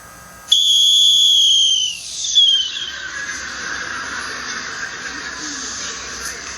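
A shrill whistle blows a sustained high note that bends downward, followed by a shorter chirp, loud and close, with faint room noise after.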